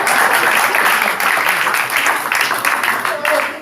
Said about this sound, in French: applaudissez pour le frère